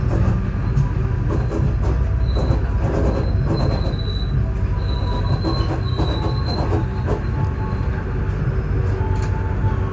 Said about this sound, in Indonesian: kereta api Sancaka Utara tiba di stasiun Solo Balapan.